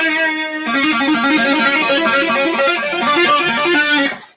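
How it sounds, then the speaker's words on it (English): A distortion preset on a small portable music effects device, a gritty, buzzing distorted tone playing a rising and falling melodic line continuously for several seconds before cutting off. "So if I want to do some distortion, you can also connect it to your phone."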